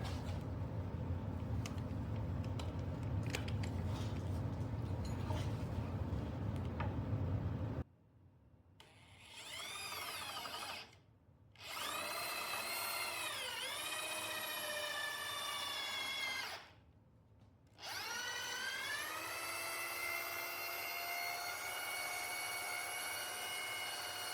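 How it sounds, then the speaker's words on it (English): A power drill fitted with a 3/8 inch auger bit, a steady loud grinding whir for about eight seconds, then repeated bursts of high whining spin with short pauses between them. "Now I have this 3/8 inch auger bit set up in the drill."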